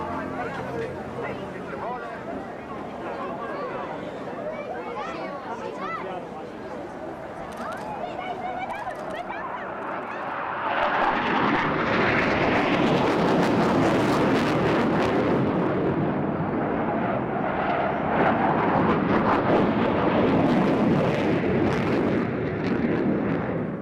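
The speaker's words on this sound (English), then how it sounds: "a roll demonstration by two Royal Air Force Tornado GR4s" Two RAF Tornado GR4 jets fly a roll demonstration at a seaside airshow. A distant jet rumble swells into a loud, broad roar that holds for the second half, and crowd chatter runs beneath it throughout.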